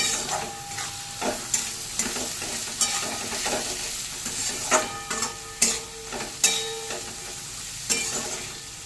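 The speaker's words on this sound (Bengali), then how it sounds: "এবার দিয়ে দেবো টুকরো করে কেটে রাখা আলু বিনস গাজর কাঁচা লঙ্কা দিয়ে দেবো পরিমাণ মতো নুন হলুদ গুঁড়ো সব ভালো করে মিশিয়ে নেব" Potato, beans, carrot and green chilli with salt and turmeric being stirred in a hot pan, producing a soft continuous sizzle and repeated sharp spatula scrapes and knocks against the metal, close up.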